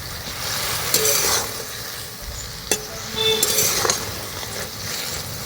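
Chusi pitha dough sizzles in a hot wok while a utensil scrapes and stirs in a few bursts, with a light metallic clink partway through.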